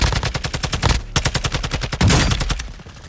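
Rapid automatic gunfire from a Modern Warfare 2 firefight, loud and close, with dense bursts of shots rattling in quick succession and brief pauses between volleys.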